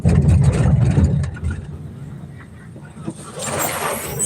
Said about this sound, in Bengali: দেখেন বাইকটা কিভাবে যাচ্ছে বন্ধুরা